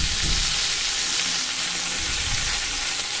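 Cut pointed gourd pieces frying in a hot pan for a mashed gourd and shrimp dish, a loud, continuous dense sizzle with faint stirring beneath and no voices.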